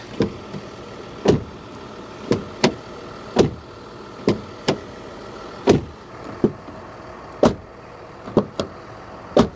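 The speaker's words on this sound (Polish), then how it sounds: "Trochę mi też smutno, że dźwięk zamykanych drzwi nie jest tutaj taki bardziej premium." A 2025 Mazda CX-80 door shuts repeatedly, a dozen or so sharp, fairly thin thuds in an irregular rhythm, close by over faint background hum, without any talk.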